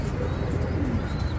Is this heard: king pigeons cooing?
yes